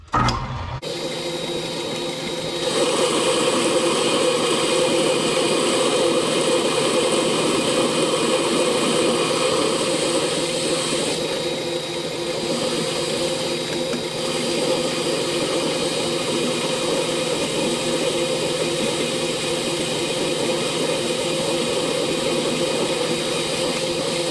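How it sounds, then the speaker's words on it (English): A lathe turning a steel starter/generator pulley for a 1976 Harley-Davidson golf cart, its cutter taking the part down in a steady, loud whine with high harmonic tones that holds nearly unchanged throughout. "I already swapped my cutter out and we started cutting it down to 1/2 inch"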